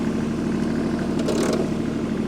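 A Kubota KL340 tractor idles steadily nearby with a constant low engine drone and light mechanical clatter, no talk over it.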